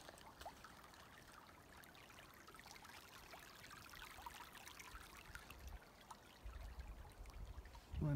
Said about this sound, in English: little water source.